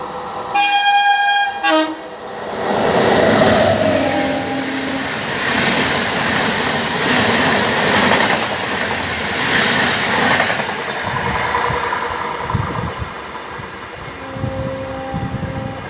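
At Chandod station, the Ahmedabad–Kevadiya Janshatabdi Express meets the Pratap Nagar MEMU: a loud horn blast opens, then the train rumbles and clatters past steadily, wheel noise fading slightly toward the end.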